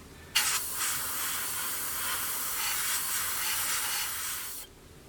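Thinned acrylic paint is airbrushed onto a 1/48 Airfix Sabre F4 model kit, one steady close hiss of about four seconds that starts and stops abruptly.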